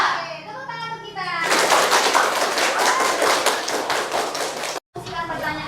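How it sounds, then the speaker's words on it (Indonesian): Children in a classroom clap together in a burst of applause lasting about three seconds, with young voices chattering before it and a teacher's voice resuming right after. "Oke, tepuk tangan untuk kita."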